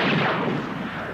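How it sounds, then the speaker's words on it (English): A single gunshot rings out in a 1966 Eurospy spoof film, a loud, booming crack that fades into a brief echoing tail. "I heard a shot."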